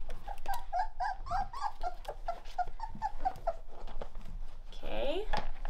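Weimaraner puppies in a litter box whimpering and yipping in a rapid, repeated high-pitched series, close by, with a person talking over them and a louder whine near the end.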